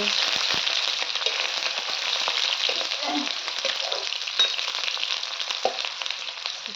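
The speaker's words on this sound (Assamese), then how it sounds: "অকণমান ভাজি লওঁ" Onions frying in a pan for a local chicken dish, a steady bright sizzle running throughout with occasional soft stirring scrapes, close and alone with no talk.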